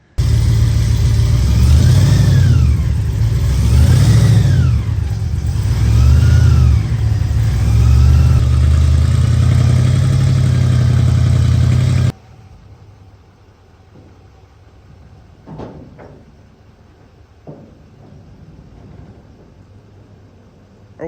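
Concept 6x6 Chevrolet C10 truck engine revving loud and close in repeated rising surges for about twelve seconds, then cutting off to a quieter stretch with a few sharp knocks and clunks.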